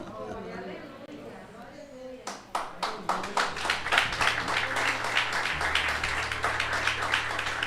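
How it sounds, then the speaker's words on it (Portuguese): Congregation in a church service bursts into applause, starting with a few sharp claps that build into dense, rhythmic clapping from many hands, with a voice heard over it near the start. "Aplaudam também pelas vidas que foram batizadas."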